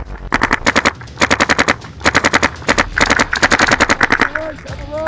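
Paintball markers firing across an outdoor paintball field, loud rapid bursts of popping shots in repeated rattling volleys, close by, with shouting voices mixed in near the end.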